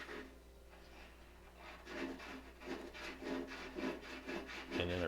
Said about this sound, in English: So I'm going to sand it down, which seems to kind of close it back up.